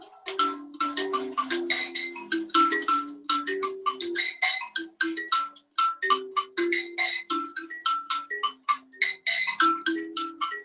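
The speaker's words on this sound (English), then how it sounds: "this particular style of thumb piano" Mbira thumb piano of the South African style plucked alone up close, bright metallic tines ringing in quick repeating melodic figures with overlapping sustained tones.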